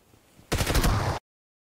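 Shotgun blast in the mobile battle-royale game BGMI, a single dense burst about 0.7 seconds long that stops abruptly, following quieter game ambience.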